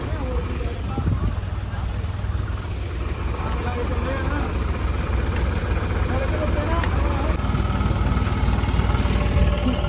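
A low tractor engine rumbles steadily throughout, with people talking over it outdoors on a flooded road.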